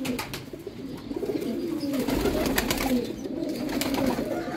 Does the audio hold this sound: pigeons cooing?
yes